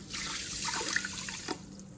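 Two cups of water poured into a Ninja Foodi pot holding rice, a soft steady splashing trickle with a few drips, fairly quiet and without talk.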